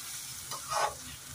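Bay leaf frying with spices in a pan, cooking for a mutter makhana dish: a brief close sizzle with a couple of sharp crackling bursts, no talk.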